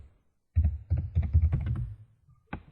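Typing on a computer keyboard while entering text in a design program: a quick run of close, crisp key clicks lasting over a second, then a short pause and one last firm keystroke.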